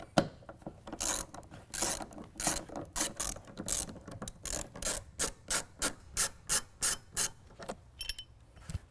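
A T50 Torx bit works out the bolts of the tie-down cleats in the bed of a Honda Ridgeline pickup, a fast series of sharp ratcheting clicks, close and loud with no talk.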